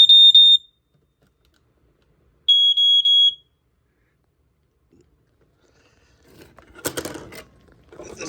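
Smoke alarms being tested among a collection, giving two loud shrill high electronic beeps, one short and one longer pulsed, followed by quiet and then rustling handling noise near the end.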